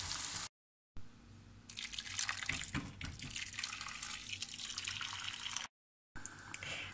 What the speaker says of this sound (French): je vais y ajouter de l'eau chaude